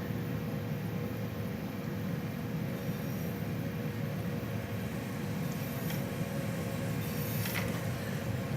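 A Southeastern Class 375 electric multiple unit in Train Simulator 2017 runs steadily with a continuous rumbling drone, low mechanical hum, and faint high whine, leaving London Victoria toward Faversham. No voices.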